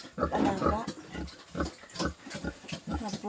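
Farm pigs being raised, grunting and oinking close by in repeated short bursts with a steady, uneven rhythm.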